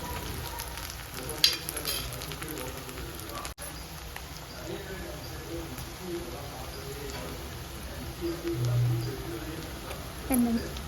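Green and dried chillies frying in oil as the start of a spicy prawn gravy give a soft, continuous sizzle with occasional stirring clicks, partly under a voice talking.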